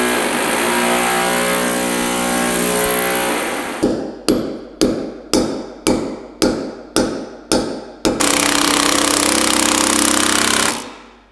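A power drill working in a workshop: a long continuous whine, then a run of about eight short rhythmic bursts, then another sustained run before it cuts off, loud and close with no talk.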